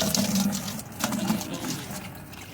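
Dirty, foul-smelling water splashes and trickles steadily from a flood-damaged Hyundai Tucson fuel tank, a close, murky gush with faint voices in the background.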